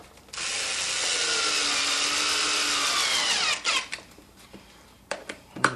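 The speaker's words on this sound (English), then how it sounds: "and screw it in" A power drill drives a screw into a saddle, its motor whining steadily and loudly for several seconds, then it stops and a few sharp clicks and knocks from handling follow; no speech.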